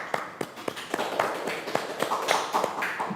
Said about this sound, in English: Please give big applause to Prof.